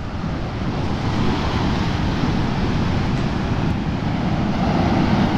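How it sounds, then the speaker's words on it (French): Ocean waves break and churn along the coast of Porto Santo, a loud, continuous surf roar mixed with gusting wind buffeting the microphone, with no voices. "Entre le vent et le brouhaha que créent les vagues."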